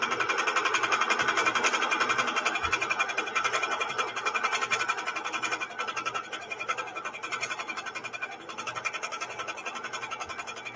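A sewing machine runs steadily while free-motion quilting feather motifs, its fast, even needle hum continuous and close for the whole stretch with slight dips in loudness.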